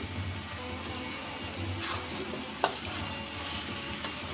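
Spinach and mixed vegetable curry with potato, carrot and cauliflower is stirred in a pan, a soft low sizzle with quiet scraping and a couple of sharp utensil clicks on the pan.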